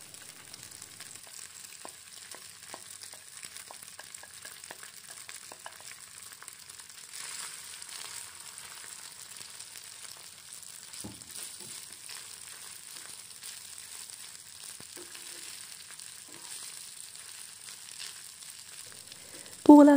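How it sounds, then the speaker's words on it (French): Rice mixed with egg sizzles in vegetable oil in a pan over medium heat, a soft continuous frying hiss with faint scraping and stirring clicks throughout, ending in a brief louder clatter. "Je rajoute juste un peu d'huile végétale, puis le riz aux œufs, et je vais les faire revenir sur feu assez moyen."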